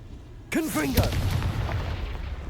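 A Confringo fire-curse spell blast in Hogwarts Legacy bursts in with a sudden loud onset, then carries on as a rumbling, crackling tail. A voice calls out just as the blast starts.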